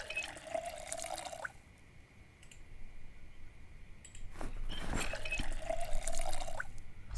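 Water refilling in Project Zomboid, liquid trickling and dripping in two bursts with a quiet gap between, close and moderately loud, then clicking handling sounds under a soft game ambience.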